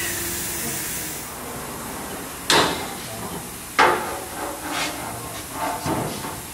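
Hammer blows on a bent car bumper piece being worked to fit, two sharp loud metallic strikes followed by several softer taps over a steady hiss in a workshop.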